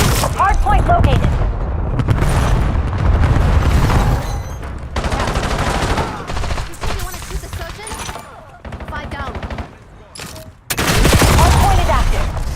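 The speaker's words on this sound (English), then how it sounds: "Cluster grenade going out" Cluster grenade blasts in Destiny 2 during a hardpoint match, heard as loud overlapping booms and rapid crackling bursts in clusters, with heavy gunfire around them and game voice lines over the action.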